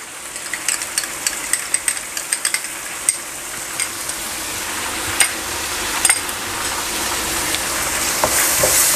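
Vegetables fry with soy sauce, ketchup and crushed black pepper for restaurant-style Chinese vegetable fried rice, making a continuous close sizzle. Sharp clicks and scrapes of stirring are scattered through it, and the sound grows slightly louder toward the end.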